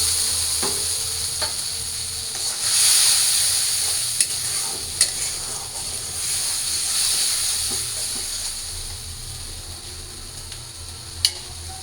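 Spice mix hitting hot oil that already holds fried bay leaf and cumin, sizzling with a steady, close hiss and the occasional sharp pop or clink of stirring.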